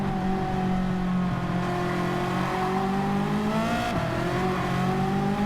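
Race cars lap the Daytona road course in a Challenge Series event, engines droning and whining loudly and continuously as they accelerate and shift, with no talk over them.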